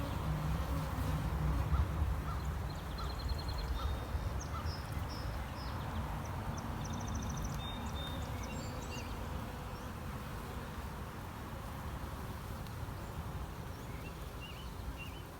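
Honeybees hum in a dense, continuous drone inside an overcrowded observation hive, steady and close, with faint higher chirps and buzzes drifting above it throughout.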